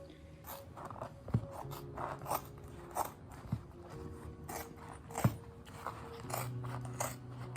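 Scissors cut a traced pink boot pattern, a close sequence of crisp snips and crunchy blade closes at an uneven pace, about a dozen cuts with light handling noise between them.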